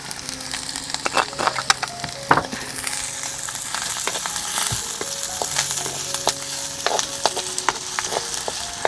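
Garlic, curry leaves and chilli frying in hot oil for a tempering, a constant close sizzle with sharp crackles and pops and occasional stirring clatter throughout.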